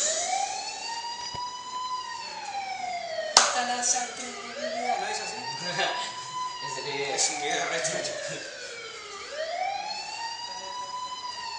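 An emergency siren wails in repeated rising and falling sweeps, loud and prominent, with a sharp clap partway through and people talking in Spanish underneath.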